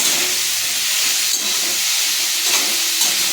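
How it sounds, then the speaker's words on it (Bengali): Chopped tomato and green chili fry in a pan while being stirred, giving a steady, close hiss and sizzle with faint scraping that holds evenly from start to end. "টমেটো কুচি কাঁচা লঙ্কা কুচি দিয়ে একটু নাড়াবো"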